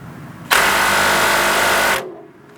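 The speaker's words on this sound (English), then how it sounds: "put your wrench on one side and your impact on the other" An impact wrench fires one loud, continuous burst of about one and a half seconds on a rusty 17mm nut and bolt of the lower control arm of a 2003-2007 Honda Accord, then winds down.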